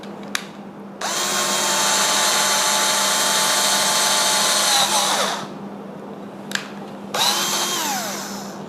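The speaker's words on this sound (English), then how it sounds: "Again going to use this baseboard, have it to support my drilling" Power drill boring holes into a board resting on a baseboard, two bursts of high whining spin, the first long and steady, the second shorter and tailing off, each starting with a rising motor pitch, close and loud over a low hum.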